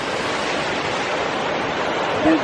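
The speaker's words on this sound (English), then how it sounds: "See the water gushing" Waterfall at Yellowstone National Park gushing into the pool below, a steady, dense roar of rushing water, loud and continuous with no pauses, as heard from a nearby overlook.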